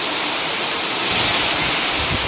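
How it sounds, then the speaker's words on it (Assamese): Steady, loud rushing noise fills the scene, like wind blowing hard with heavy rain pouring down during a storm, around a house with doors and windows. "বতাহ বৰষুণ"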